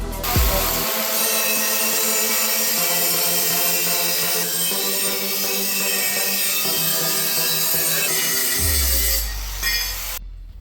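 A power tool cuts pieces for a battery box on a Suzuki S40 Savage hardtail bobber motorcycle build. It gives a loud, continuous grinding whine for about ten seconds, with the pitch shifting slightly, and no talk is heard.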